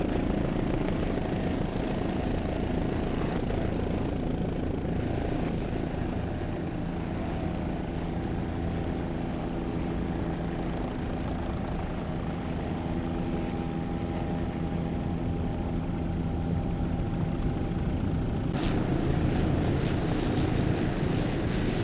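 A 38-foot Cigarette powerboat races in an offshore grand prix at Savannah, its engines giving a loud, sustained droning roar that holds steady throughout, heard from a distance with wind-like noise.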